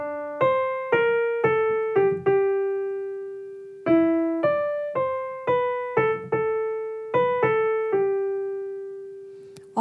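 Piano right-hand melody of the pre-chorus of a pop song, clear single notes in short repeated phrases with pauses between them, played close and alone.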